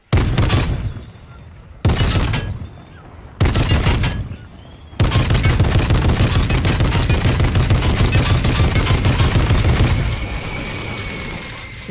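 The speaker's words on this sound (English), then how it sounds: "You can use this mounted turret" A mounted turret fires in Fortnite: three short, loud bursts of rapid automatic fire separated by pauses, then a long continuous stream of shots that tapers off near the end.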